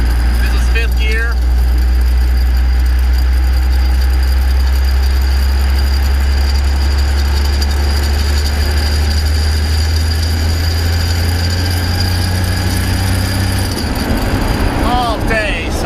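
Turbocharged Ford F150 in fifth gear with the turbo spooled up: a loud, sustained low engine drone heard from inside the cab, holding steady for most of the run before dropping away near the end.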